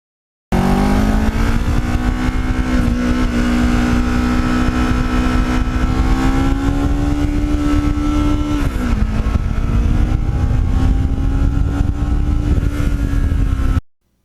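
A Kawasaki Ninja motorcycle engine drones loud and close for over thirteen seconds, its pitch climbing steadily as it revs, then dipping briefly before rising again, with no voices over it.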